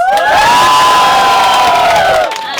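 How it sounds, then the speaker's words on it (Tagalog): A big crowd at a street rap battle in Gen Trias, Cavite cheers and shouts loudly for a couple of seconds, then fades quickly. "mag-ingay para kay Maiko Chicks"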